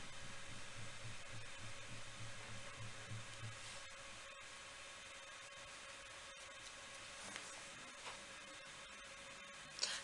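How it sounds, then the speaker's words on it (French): Home washing machine running in the background as a faint, steady broadband whir with a low hum, continuous throughout with no talking. "Désolée si vous entendez du bruit, mais c'est ma machine à laver"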